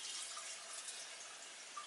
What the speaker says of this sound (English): So we're going to get this Kilner jar filled right up to the brim